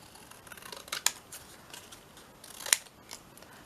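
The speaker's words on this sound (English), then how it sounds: "Let's cut another little square off." Scissors cut a small square from paper trim with two quick, crisp snips spaced about a second and a half apart, close by against quiet background.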